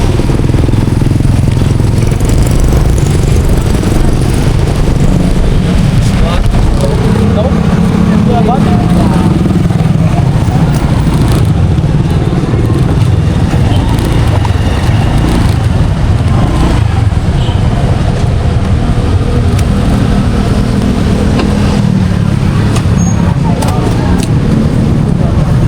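A motorcycle engine runs near a roadside eatery while being parked, a loud continuous rumble mixed with surrounding traffic noise, with someone talking throughout.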